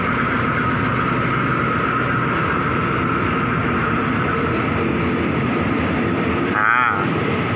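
A black express train pulls out, its steady rolling rumble and wheel noise filling the whole stretch at close range, with a short higher whine near the end.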